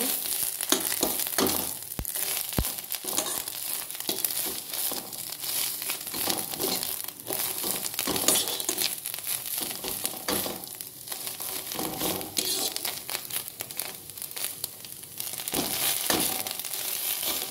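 Tharkol greens sizzling in a pan as they are stirred and turned, a continuous crackling fry with repeated scraping and rustling from the spatula, close and fairly loud.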